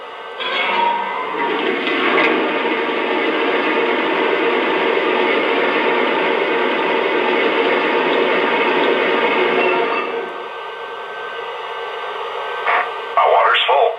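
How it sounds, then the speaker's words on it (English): A Lionel Milwaukee Road S3 #260 model locomotive plays a sound effect of water filling its tender, a steady rushing gush lasting about ten seconds before cutting off, followed by faint radio-style voice chatter. "Here's the sound of water being added to the tender."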